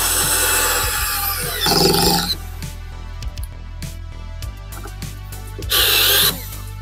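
A cheap Parkside PASS 4 A1 cordless screwdriver drives a 4x16 mm screw, its motor whirring in two short loud bursts with quieter clicks and handling noise between them, someone speaking over parts of it.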